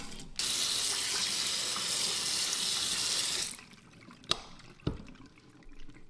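Tap water runs loudly into a sink while boiled bamboo shoots are rinsed clean, a steady rush that stops partway through, followed by a few clanks and drips.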